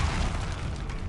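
A Bombarda blasting spell goes off in Hogwarts Legacy, a loud, booming explosion that fills the short moment with a dense, sustained rumble.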